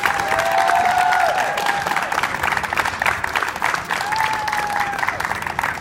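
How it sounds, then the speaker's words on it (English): A street performance crowd in Covent Garden gives a loud, sustained round of applause with some cheering, dense and continuous throughout, with a faint voice or whistle-like tone above it. "These guys will give you one last massive round of applause"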